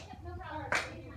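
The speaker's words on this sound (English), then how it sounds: "When it crosses right here, that's when I need you to clap." A group at a meeting claps once together in a single sharp, fairly close burst, with faint voices murmuring before and after.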